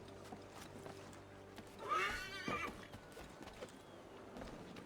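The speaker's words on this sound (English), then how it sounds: "Oh, the horse followed me." In the video game Assassin's Creed III, a horse gives a short, fairly faint whinny midway through, with soft hoof clops and quiet ambient sound around it.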